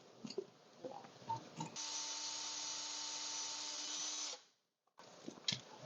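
A rotary tool bit cuts into a diecast metal model car, a steady high-pitched whine with a grinding edge lasting about two and a half seconds. Before it and after it come short bursts of quieter handling noises and light taps.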